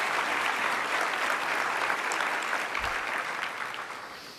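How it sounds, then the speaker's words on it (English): An audience applauds at a State of the City address in Irving, a dense, even wash of many people clapping that holds steady and then begins to thin slightly toward the end. "I think they deserve a round of applause."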